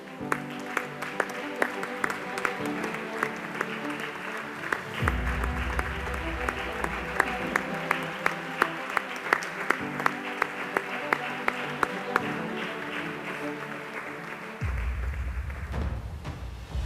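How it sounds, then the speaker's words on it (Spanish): An audience at an award ceremony claps steadily for the whole stretch, a dense continuous patter of many hands, with a low rumble and light thumps underneath. "Está permitido aplaudir"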